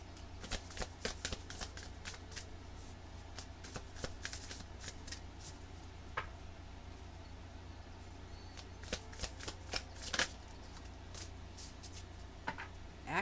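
Tarot cards being shuffled by hand for a reading, a steady run of crisp riffling and snapping card sounds close by over about thirteen seconds, with no voices.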